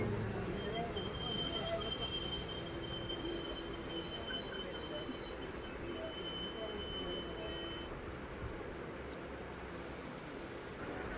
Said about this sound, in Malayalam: നമ്മുടെ ഈ 2 ട്രെയിനുകളും ഒരേ സമയം തന്നെ ഇപ്പോൾ കാഞ്ഞങ്ങാട് റെയിൽവേ സ്റ്റേഷനിൽ നിന്ന് വീണ്ടും പുറപ്പെട്ടിരിക്കുകയാണ്